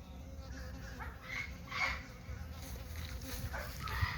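A bee swarm buzzing around a hive in the open, a steady droning hum with individual bees passing close by now and then, with faint background noise and no clear talking.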